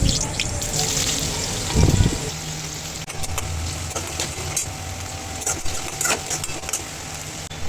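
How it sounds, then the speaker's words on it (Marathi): Onion frying in hot oil in a kadhai with cumin, mustard seeds, whole spices and curry leaves, giving a steady, fairly loud broadband sizzle throughout, with a brief clattering stir or toss near the start. "गरम कढईत तेल टाकून ते गरम झाल्यावर त्यात जिरे मोहरीची फोडणी देऊन त्यात खडा मसाला, कढीपत्ता टाकून कांदा टाकून घेऊ"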